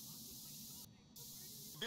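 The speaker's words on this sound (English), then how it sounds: "I have to go around spraying other billboards" Spray paint hisses onto a billboard in the video game Postal 4 as a steady, loud, continuous hiss with a brief pause in the middle, heard without talk.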